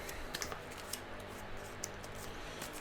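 A pair of scissors is set down on a surface with a few faint, sharp clicks and taps over quiet room noise, with no talk.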